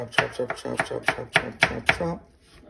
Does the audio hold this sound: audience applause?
no